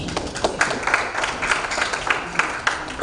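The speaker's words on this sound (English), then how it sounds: "A round of applause to the committee." Applause at a youth and human capital side event of an Africa heads of state summit, with scattered clapping from a modest crowd, fairly steady and moderately loud throughout.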